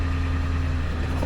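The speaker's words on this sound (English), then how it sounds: "That truck is so loud." Loud leaf vacuum truck engine running nearby outdoors on a cold day, a steady, heavy low rumble with a constant hum and no pauses.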